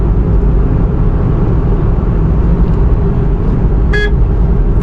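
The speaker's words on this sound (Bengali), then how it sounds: "হালকা হন দিলাম" A car on a highway gives one brief, light horn honk near the end, heard over the loud, continuous road and engine rumble inside the moving vehicle.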